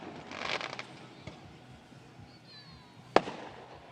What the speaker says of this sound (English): The last firework, I swear.